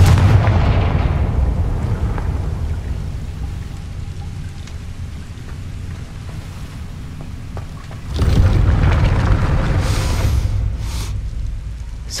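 Confringo fire spells cast in the video game Hogwarts Legacy burst against a gate with heavy, booming blasts, a loud explosive roar at the start that fades to a rumble, then a second loud blast near the end.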